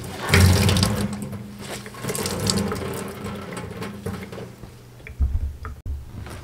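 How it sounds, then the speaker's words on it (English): Water drains from wet wool felt shaped as a witch hat, with trickling and splashing close by that swells and fades, then a few sharper wet slaps near the end. "Drain it again and check sides."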